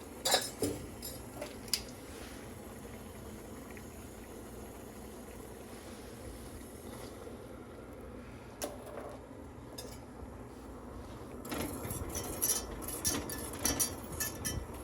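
A spoon stirs a sugar mixture in a cup for rock candy, giving faint, scattered clinks and scrapes against quiet background, busier toward the end.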